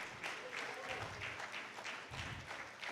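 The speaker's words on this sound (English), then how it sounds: "Please keep clapping till she gets here." An audience at a book launch keeps clapping in a steady, moderately loud patter while a voice talks over it.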